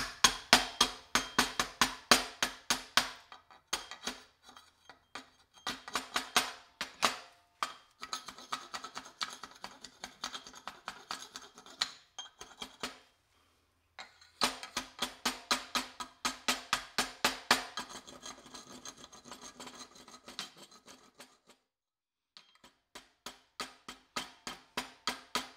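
Flux residue being scraped or brushed off a TIG-welded aluminum bead, heard as rapid rhythmic scratching strokes in bursts, with short pauses between them, close and crisp.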